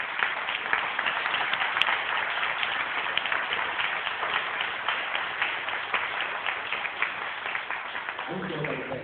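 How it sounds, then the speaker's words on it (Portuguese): Steady, dense applause from a crowd fills the whole stretch, broad and continuous with no pauses. "dê uma linda salva de palmas para você."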